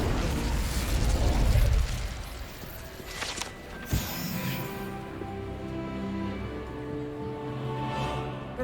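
A fire spell cast in a video game bursts out with a loud whooshing blast and roaring crackle, then settles into a sustained rumbling hiss of flames with a sharp pop partway through.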